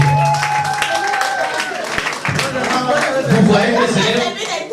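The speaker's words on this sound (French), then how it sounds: "On peut l'applaudir très fort, s'il vous plaît." Guests at Mme Kouam's birthday party applaud over a steady wash of crowd noise, with voices talking and calling out throughout.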